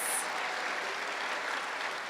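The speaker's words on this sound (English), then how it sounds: "Let's give Director Brady another Soaring Eagles round of applause." A school audience gives a steady round of applause at a middle-high school ribbon cutting ceremony, dense continuous clapping from many hands filling the room at even loudness.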